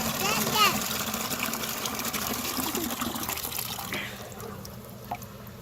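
Water gushing and pouring into a radial flow filter, a continuous splashing fill close by under a voice, easing off near the end.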